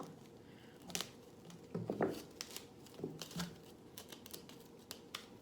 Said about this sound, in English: So first up, I'm gonna unwrap this floral foam just with some scissors.